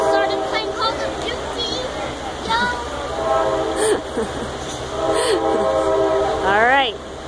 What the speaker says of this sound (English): There's a train, John.